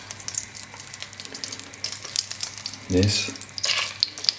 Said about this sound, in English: Now the butter is kind of simmering, you can add the meat.